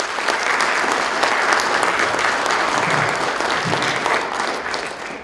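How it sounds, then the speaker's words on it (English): An audience gives a sustained round of applause for students at a university homeland security showcase, dense and steady for several seconds. "So if we could just give a round of applause for the students and their hard work."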